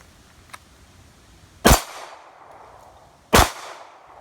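Two loud, sharp pistol shots from a Glock 42, about two seconds apart, each with a short decaying echo, plus a faint click before the first.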